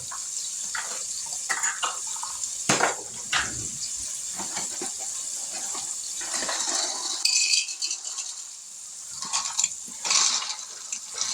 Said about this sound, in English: to that water, I'm going to add 1 cup of uncooked pasta shells